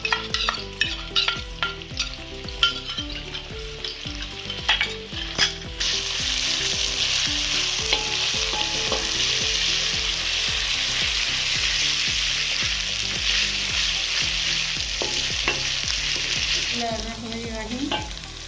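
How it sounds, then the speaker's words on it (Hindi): Browned onions frying in a karahi pan as garlic ginger paste goes in, with stirring scrapes at first, then a loud steady sizzle that fades near the end, close up and with no talking. "अब हम इसमें लहसुन अदरक का पेस्ट डालेंगे।"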